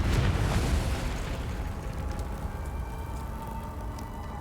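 A Confringo explosive curse cast in Hogwarts Legacy, a loud blast at the start that rumbles on and slowly decays into a low, steady roar.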